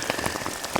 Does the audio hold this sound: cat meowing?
no